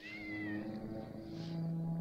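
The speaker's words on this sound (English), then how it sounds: "Oh, he hears that cat in heat." A cat in heat gives a long, drawn-out, wavering yowl, close and steady with a shifting pitch, heard alone without talk.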